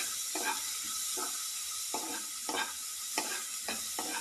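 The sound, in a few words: stirring food as it fries and browns in a pan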